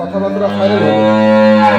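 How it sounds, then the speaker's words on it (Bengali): A dairy cow at a farm gives one long, loud, sustained moo close by, its pitch holding steady and swelling slightly toward the end. "এই গরুটা মনে হয় কালকে এক ঝলক দেখাইছিলাম আমরা"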